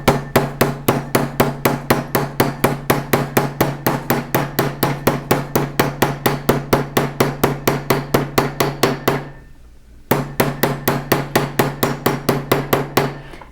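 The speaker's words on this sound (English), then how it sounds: "I'm going to make short little hammer strokes that's going to push the metal out" Short, closely spaced hammer strokes texture sheet metal for fold forming, a steady loud run of sharp metallic taps with one brief pause before the tapping resumes.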